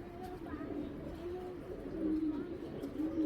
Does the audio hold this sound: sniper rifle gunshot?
no